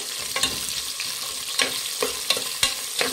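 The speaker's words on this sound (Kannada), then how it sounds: "ಎಣ್ಣೆಯಲ್ಲಿ ಈರುಳ್ಳಿನ ಚೆನ್ನಾಗಿ ಬಾಡಿಸ್ಬೇಕಾಗುತ್ತೆ" Sliced onions fry in hot oil in a pan, a steady close sizzle broken by several sharp stirring scrapes, with no voices.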